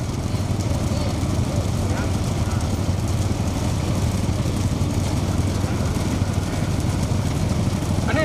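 A motorcycle engine idles and revs steadily nearby amid outdoor crowd noise at a bullock cart race in Avudaiyarkoil, Pudukkottai district, its rumble continuous throughout.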